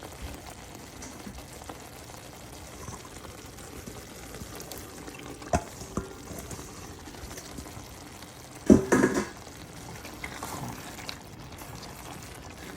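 Shrimp going into a pan on a stovetop for shrimp tacos, a faint steady sizzle running under the whole stretch, with a brief louder clatter and splash of food dropping in near the end.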